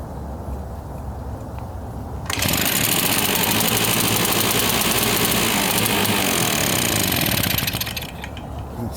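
A RedMax EBZ 5150 commercial blower engine that won't keep running, sputtering to life with a loud, rough, rattling buzz for about six seconds before cutting out, close by.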